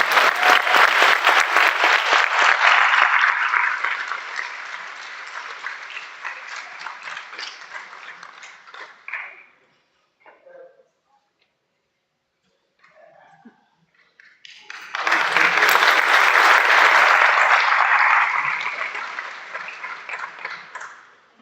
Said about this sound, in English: How about a big round of applause for the